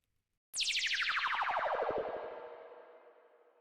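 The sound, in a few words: sample Flexible Atmos Siren Wind with subtle delay effect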